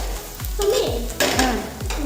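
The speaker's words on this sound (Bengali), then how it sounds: "এখন পেঁয়াজ রসুনটা একটু ভাজা ভাজা হয়ে যাক।" Onion, garlic and whole cumin frying in oil in a home kitchen, with a soft sizzle under several quick scraping stir strokes of a spatula against the pan.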